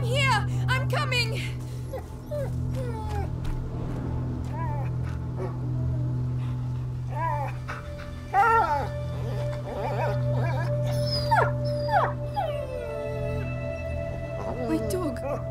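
A dog whimpers, yips and barks in A Plague Tale: Innocence, high whines and sharp cries repeating close by over a low ambient drone, with people talking amid the dog's distressed sounds.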